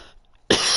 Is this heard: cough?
yes